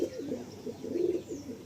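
Madrasi pigeons at a loft in Baruipur coo in a low, rolling series of soft throaty phrases, close and alone without talk.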